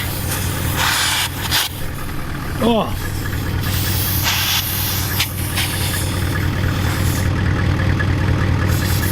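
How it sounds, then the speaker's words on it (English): Air escapes from a torn tire valve stem as a steady broadband hiss that continues throughout, with a low engine hum underneath and a brief squeak partway through. "It's leaking right out of the valve stem."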